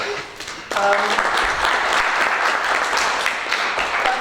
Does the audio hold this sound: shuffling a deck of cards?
no